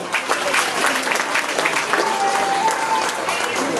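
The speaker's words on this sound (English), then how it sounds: "they were clapping, but they don't sound impressed" An audience applauds at an elephant show in Singapore Zoo, a dense continuous patter of clapping from a crowd, moderately loud and steady with faint voices mixed in.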